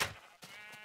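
Sheep bleating in the video game Minecraft, a short bleat followed by a second wavering one, close and clear with no talk over it.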